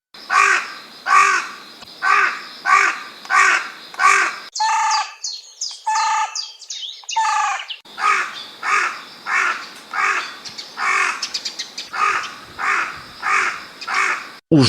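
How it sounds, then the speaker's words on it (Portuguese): A carrion crow calls in a series of loud, hoarse caws in rhythmic bursts of several notes. A short stretch of higher chattering calls breaks in midway before the harsh cawing resumes. "Os gritos roucos da gralha denunciam imediatamente a sua presença."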